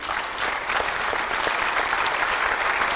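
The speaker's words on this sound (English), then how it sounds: "I want you to join in applause for Dr. Adeeb-Rizvi." Audience applause for an award at a literary festival, dense sustained clapping from a large crowd, loud and close, alone without speech.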